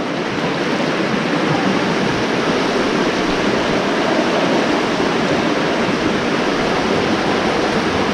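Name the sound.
deep swift stream water flowing through a channel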